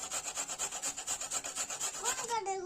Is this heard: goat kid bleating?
no